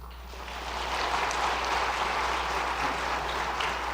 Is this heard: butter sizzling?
no